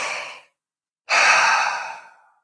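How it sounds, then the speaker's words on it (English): Deep recovery breathing after a breath hold: a short exhale, a pause, then one long, loud, close breath that fades out, with no talking. "Breathe. 3 or more recovery breaths."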